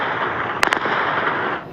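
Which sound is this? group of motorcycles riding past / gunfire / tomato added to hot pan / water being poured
gunfire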